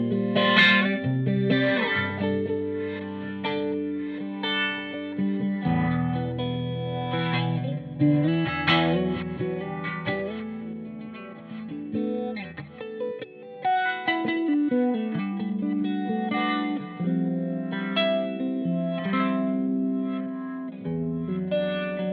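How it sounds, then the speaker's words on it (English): Heavily effected electric guitar through a Marshall Code amp playing continuously, with sweeping auto-wah tones, whooshing flanger modulation and swelling reverse-delay echoes, loud and alone. "we've added an auto wah and some modulation, which is a flanger, and a reverse delay"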